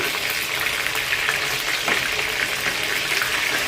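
Chicken frying in hot oil, a loud, dense, steady sizzle with no pauses, close up and alone.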